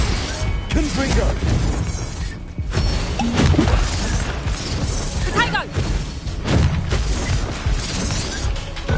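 Confringo fire spell blasts in the Hogwarts Legacy video game, a dense barrage of crackling bursts and booming impacts amid continuous combat noise and shouted spell names.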